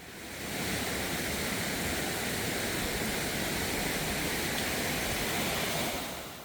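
A stream rushes through a mountain valley near a waterfall on Gwanaksan, a dense, steady roar of flowing water that fades in and holds evenly throughout.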